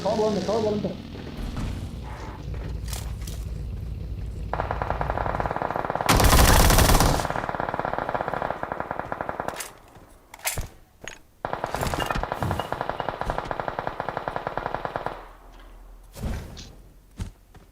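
Rapid bursts of automatic gunfire in a video game, loud and close, with a sustained roaring barrage midway and later choppy machine-gun rattles between pauses, while voices talk over the action.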